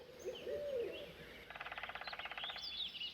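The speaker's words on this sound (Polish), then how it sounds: "Ładnie tutaj ptaszki śpiewają, aż się nie chce wychodzić." Birdsong in the ambient forest soundscape of the off-road truck game Mudrunner: soft whistling calls at first, then a rapid rattling trill and rising chirps, fairly faint against a quiet background hum.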